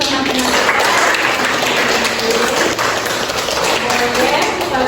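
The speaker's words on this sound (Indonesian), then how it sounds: "kita berikan tepuk tangan untuk teman-teman" Schoolchildren in a classroom give their presenting classmates a round of applause, a loud dense wash of clapping under a steady background hum with voices mingling.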